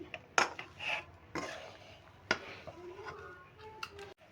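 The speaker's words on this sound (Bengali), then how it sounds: "নেড়ে নেড়ে আমি একটু ঠান্ডা করে নিচ্ছি" A spoon stirs a fried mung and masoor lentil mixture in a metal pot, giving a few sharp clinks and scrapes at uneven intervals, close by and fairly quiet.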